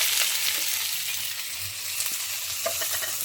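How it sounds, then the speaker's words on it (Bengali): Chopped onions with whole cumin seeds fry in a little oil alongside melting goat fat, giving a loud, dense, continuous sizzle up close with a few faint stirring clicks and no speech. "পেঁয়াজটা একটু ভালো করে ভেজে নেব।"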